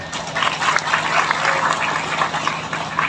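Applause from an audience at an Islamic religious lecture on ulama and pesantren, a dense steady wash of many hands clapping together, fairly loud and continuous with no talk over it.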